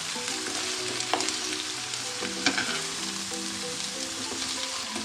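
Lean minced beef sizzles and fries with chopped onions in a pan, a steady close crackle with occasional pops and stirring clinks.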